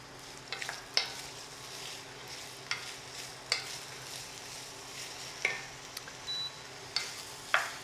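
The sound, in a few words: diced celery and aromatics sautéing in a pot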